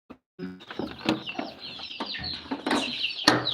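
Chickens kept under tight security cluck repeatedly in a close, busy jumble of short calls, with louder bursts near the end and no talking.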